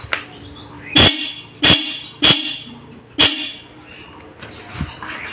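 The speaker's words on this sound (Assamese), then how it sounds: "এইখন হৈছে মোৰ বাইকৰ হৰ্ণটো কালি কিবা এটা হ'ল" A faulty motorbike horn gives four short, sharp blasts in an uneven rhythm, close and loud, with quiet background sound between the blasts and a faint last blip at the end.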